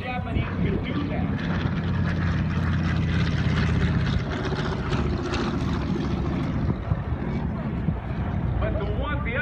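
A Japanese Zero WWII fighter flies at an airshow, its propeller engine giving a loud, steady drone throughout while someone talks over it.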